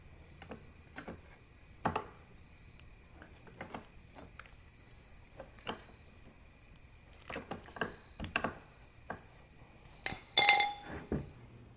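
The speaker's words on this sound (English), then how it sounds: "You'll just gently budge. And you'll notice that the cooler will start sliding out." An oil cooler on a 2002 Ford F-250 7.3L Powerstroke is worked out of its housing, giving scattered sharp metallic clinks and taps, sometimes in quick clusters, against near-silence, with a louder flurry toward the end.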